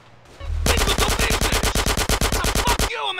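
Rapid machine-gun fire in the GTA San Andreas game, a loud sustained burst of about twenty evenly spaced shots over two seconds, preceded by a short low thump and followed by a brief ringing tail.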